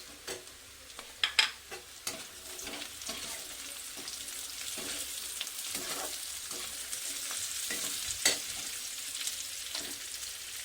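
Cashews and raisins frying with lightly browned onions for cauliflower prawn rice, a steady close sizzle broken by several sharp stirring clatters near the start and another around the eighth second.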